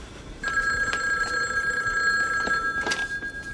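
A telephone bell rings close and loud in a quiet room, a steady sustained ring starting abruptly and then fading into a few trailing pulses.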